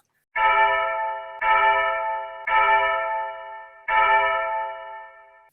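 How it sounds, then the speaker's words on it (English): A large village fire bell rings out four heavy, resonant strokes at a steady pace, each long ringing tone decaying before the next, loud and clear with no voices. "starts ringing the village fire bell for all she's worth"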